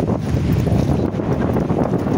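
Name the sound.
strong wind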